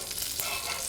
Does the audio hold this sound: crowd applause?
no